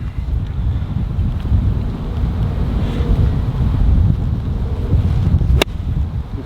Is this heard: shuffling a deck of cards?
no